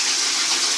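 Water gushes steadily from a hose during a factory gas water heater repair, a brief, loud, close hiss of running water with no voices.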